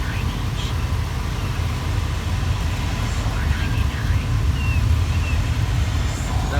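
A Land Rover Range Rover L322 engine idles steadily just after starting, a continuous low rumble with broadband hum that holds even and fairly loud throughout, with no notable changes in pitch.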